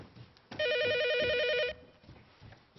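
An office telephone gives a single loud warbling electronic ring lasting about a second, close by, with a quiet room before and after.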